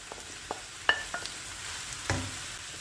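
Fatty minced meat browning in melted butter in a pan, with a low sizzle punctuated by a few sharp clicks and scrapes of stirring, close and fairly quiet, no talk.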